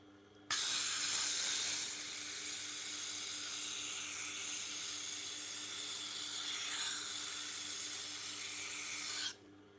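A Japanese kitchen knife is drawn across a coarse 320-grit whetstone, giving a steady, close rasping hiss that runs unbroken for several seconds before stopping abruptly.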